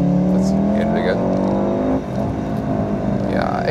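A 2016 Volkswagen Golf R Variant estate, 300 hp with AWD and a DSG gearbox, revs hard from inside the cabin, engine tone climbing, dipping at a gear shift around two seconds, then rising again, loud and close.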